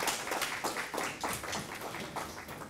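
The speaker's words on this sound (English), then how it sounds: "A round of applause for the students and the teacher" An audience applauds students and their teacher at a Srebrenica genocide commemoration, a steady wash of clapping that holds evenly throughout with no talk over it.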